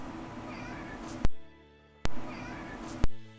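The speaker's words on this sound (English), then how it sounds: "That's Jasper meowing." A cat meows faintly under steady electronic fuzz and hiss from a capture card, with several sharp clicks cutting through the noise.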